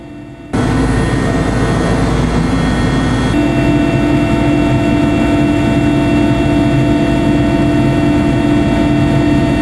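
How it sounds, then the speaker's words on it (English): Inside a helicopter heavily loaded with gear, leaving Borneo: a loud, steady engine and rotor drone starts abruptly and holds constant, with a sustained whine layered over it. "With the helicopter crammed to the rafters with our equipment on all of us, we finally leave Borneo."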